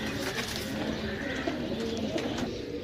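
Soft pigeon coos repeat over a steady background murmur, with a few faint chirps mixed in, fairly close and continuous.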